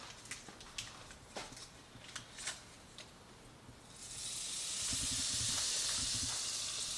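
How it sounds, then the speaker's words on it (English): Butter starts sizzling in a preheated skillet, a steady soft hiss that rises from quiet and holds for a few seconds after some faint clicks and handling sounds. "add some butter to the pan"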